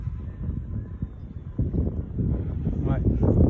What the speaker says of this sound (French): il s'est mis à bien souffler le vent là